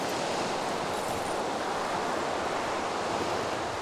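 Sea waves on the Spanish Mediterranean coast in January, a steady, loud, broad wash of surf mixed with wind rumble on the microphone, with no voices.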